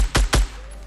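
SCAR rifle fire in the Fortnite video game: two loud, sharp shots about a fifth of a second apart, each with a short crack and decay, followed by a low steady hum.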